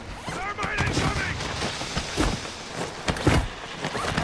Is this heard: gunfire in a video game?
yes